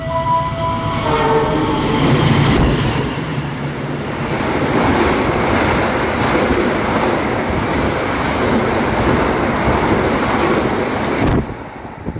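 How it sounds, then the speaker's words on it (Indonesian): Argo Muria express train running straight through a station without stopping, a loud continuous rumble and rush of wheels close by, opening with a horn blast and then clattering steadily until it ends abruptly. "Persiapan dari jalur 2 melintas langsung kereta api Argo Mulia dari Stasiun Jakarta Gambir tujuan akhir Stasiun Semarang Tawang"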